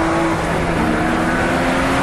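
Aston Martin sports car engine roaring steadily and loudly as it accelerates, a continuous deep drone with no speech.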